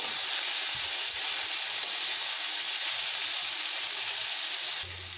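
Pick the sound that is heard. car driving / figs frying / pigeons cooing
figs frying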